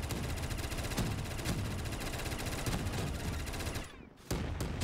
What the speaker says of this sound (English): Dude, that nail gun